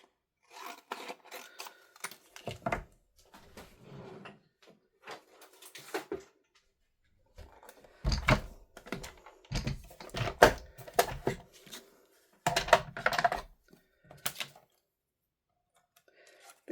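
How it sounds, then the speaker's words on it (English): A mini die cutting machine runs paper scraps through its rollers, giving irregular close rasping, rubbing and clicking bursts with short pauses between passes, at low level. "This is the mini version of my die cutter."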